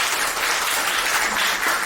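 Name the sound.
audience applause at a church book concert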